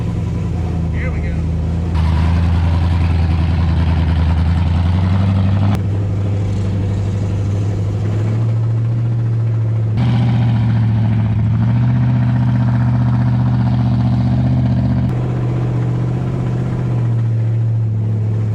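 A truck with a cammed 5.3 engine built for burnouts drives along, its loud, deep, lopey exhaust droning steadily and rising and falling with gear changes; speech is faint beneath it.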